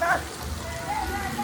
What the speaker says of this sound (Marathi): फायनली पाऊस पडलाय तर बघू शकता।